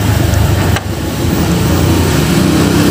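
A bored-up motorcycle engine runs loud and close, a continuous rough mechanical drone with a brief dip just before the one-second mark, then steady again.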